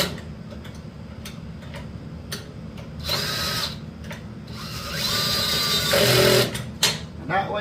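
Power drill on a low torque setting runs in short bursts while tightening wheel bolts on a Harbor Freight Predator wood chipper, with clicking and whirring close up and someone talking in between.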